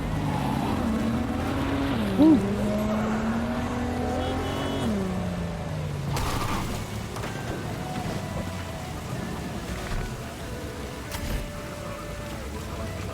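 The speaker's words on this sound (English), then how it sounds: "Oh, this car still drives like it's on ice." Car driving in Cyberpunk 2077, a steady engine drone that rises and falls in pitch as it accelerates and eases off over a continuous road-noise wash, with a brief exclamation from a player partway through.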